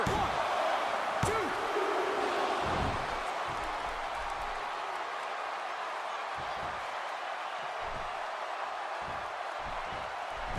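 A WWE 2K16 Smackdown Live arena crowd keeps up a steady, broad roar, with a few thuds early on and commentators talking over it.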